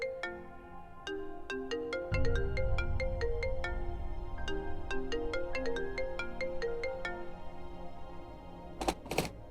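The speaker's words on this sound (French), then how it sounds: "Karan, Le téléphone." A melodic phone ringtone plays a repeating tinkling tune, with a low rumble joining partway through and a couple of sharp clicks near the end.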